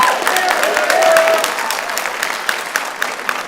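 An audience at a school board meeting claps loudly and steadily for several seconds, with scattered louder claps near the end as the applause thins.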